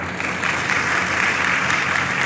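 An audience at an RCM gathering in Bhopal applauds together in honour of a guest. Dense, steady clapping fills the room on its own, with no voices over it.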